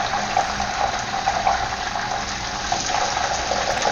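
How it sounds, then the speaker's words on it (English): Spinach leaves thrown into hot deep-frying oil, sputtering in a steady, loud hiss and crackle that holds unbroken throughout, with no talk over it. "when you throw a handful of spinach into oil, it's going to sputter pretty badly"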